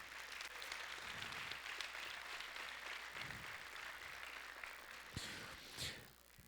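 A church congregation claps together for Jesus in a steady, roomy wash of applause that holds throughout, with a few louder isolated claps near the end.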